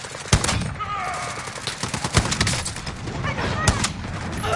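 Rapid gunfire in the video game Warzone, with repeated sharp bursts and single shots crackling close and loud, overlapping one another through the scene.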